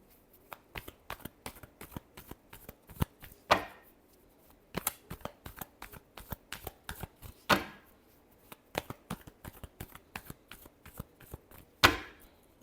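A deck of tarot cards being shuffled close up, with a quick run of sharp riffles and snaps and several louder riffle bursts along the way, in an otherwise quiet room.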